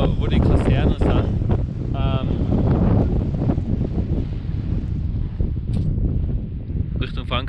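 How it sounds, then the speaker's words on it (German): Strong wind on an Alpine mountain summit in the western Alps: a constant, loud roar that buffets the microphone throughout, with a brief faint voice partly buried in the gusts. "Jetzt geht der Wind ein bisschen mehr."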